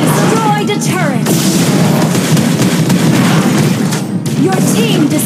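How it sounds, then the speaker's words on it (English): Turret destruction in the Mobile Legends mobile game: a booming explosion with crackling debris, followed by loud continuous battle effects and a game announcer voice over the action. "Your team destroyed a turret!"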